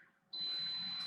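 An air fryer sounding its shake-the-food signal: after a quiet moment, a single sustained, shrill electronic beep starts abruptly and holds for the rest of the moment, close and clear.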